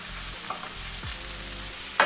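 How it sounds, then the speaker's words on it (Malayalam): Cabbage and grated carrot with salt are stirred in a hot pan for a Kerala-style thoran. A steady close sizzle runs throughout, with a few soft scrapes of the spoon and a sharper clatter at the end. "അതിലേക്ക് കുറച്ച് ഉപ്പ്, ആവശ്യത്തിനുള്ള ഉപ്പ് ഇട്ട് കൊടുക്കുക. നല്ലപോലെ ഒന്ന് ഇളക്കി യോജിപ്പിക്കുക."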